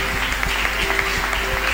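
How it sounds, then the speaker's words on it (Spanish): A church congregation claps together during a Spanish-language worship service, a steady, dense patter of applause that fills the whole short moment over a low sustained hum. "Démosle un aplauso al Señor, sí, un aplauso a Él."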